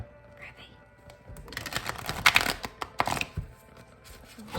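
Playing cards riffle-shuffled at a tarot reading table, a quiet stretch followed by a burst of rapid, crisp flutters and snaps up close, with faint background sounds around it.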